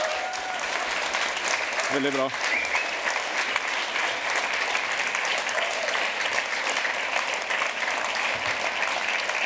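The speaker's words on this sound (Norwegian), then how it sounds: "Så jeg synes bare vi skal gi applaus til gutta." A crowd at a book and film launch party applauds the boys, with sustained, dense clapping filling the room. A person speaks briefly over it early on.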